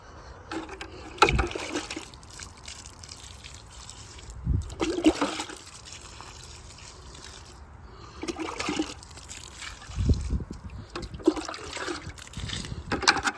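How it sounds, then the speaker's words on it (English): Water poured onto okra seedlings in a garden bed, arriving as several separate splashing, gurgling pours spaced a few seconds apart, moderately close, with no talking over them. "let me wet these okras"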